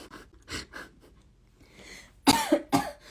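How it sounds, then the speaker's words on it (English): Several sharp coughs, close and loud, coming in bursts with short breathy pauses between them, and no talking. "I made myself cough."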